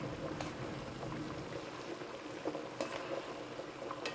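Cabbage and pumpkin cooking down in a pot, a steady close bubbling and sizzling simmer that holds at a constant level with a few faint clicks on top.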